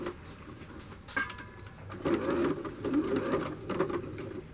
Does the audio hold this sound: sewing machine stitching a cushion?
yes